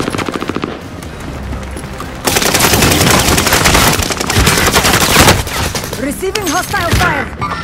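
Loud close bursts of enemy automatic gunfire in Call of Duty: Modern Warfare, rapid fusillades rattling on and off over several seconds, with no speech.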